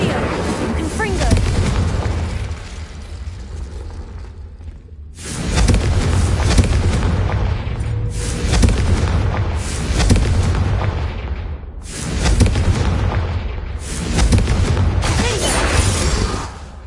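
Incendio and Confringo spell blasts crash out in a wizard video game, a run of loud, sustained booming explosions in repeated bursts with short dips between them.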